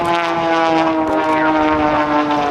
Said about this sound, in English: He's going to tumble the airplane. The airplane's going to get upside down on him.